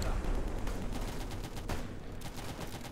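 Gunfire from an enemy weapon in Easy Red 2, a continuous, rumbling barrage of overlapping shots and distant booms filling the whole stretch at steady loudness.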